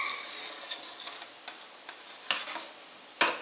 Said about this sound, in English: we wanna give it a little stir